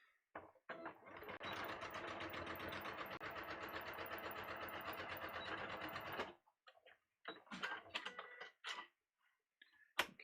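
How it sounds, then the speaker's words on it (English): A sewing machine stitches a seam on a shirt in one steady, rapid whirring run of about five seconds, then stops, followed by faint handling clicks and rustles of fabric; close and quiet, no talk. "now I'm just going to sew"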